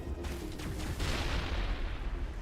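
A grenade detonates in Mass Effect with a loud, booming blast. Its broad roar rises partway through and lingers over a rumbling low backdrop of combat noise.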